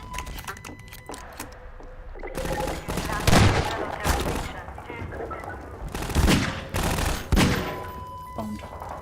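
Gunfire in Half-Life 2, repeated bursts of automatic fire and single sharp shots at close range, loud and irregular, with a voice talking between volleys.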